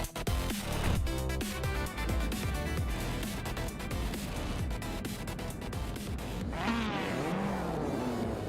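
Racing video game cars at the start of a race: a dense, loud roar of several engines revving and whining together, with pitch sweeping up through gear changes and a rising whine near the end, no talk.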